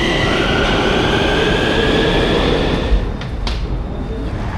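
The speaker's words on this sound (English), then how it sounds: "I'm taking the tram" Steady rolling rumble of a tram ride through Bucharest, continuous and close, with a brief knock near the end and faint high squeals as wheels run over the rails.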